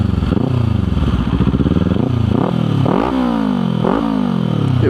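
A Kawasaki Z400 parallel-twin motorcycle fitted with a long canister exhaust revs repeatedly up and down, loud and close, with a deep throaty rumble and rising sweeps of engine pitch.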